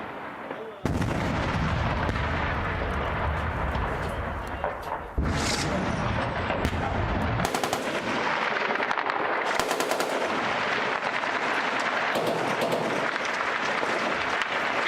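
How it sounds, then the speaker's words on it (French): Gunfire and machine-gun bursts in street fighting in Damascus, loud and close, with dense continuous automatic fire and sharp overlapping shots filling the whole stretch, plus a sudden heavy blast near the middle. "Les balles fusent au-dessus de moi."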